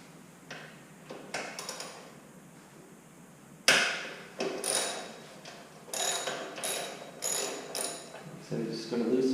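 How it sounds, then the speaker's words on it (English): A ratcheting wrench clicks as it loosens 12mm bolts on the FMF exhaust of a Honda CRF250L motorcycle, giving rapid clustered ticks and metallic clatter close up, louder in the second half. "I'd say first I'm just going to loosen them all up before I actually start taking them out"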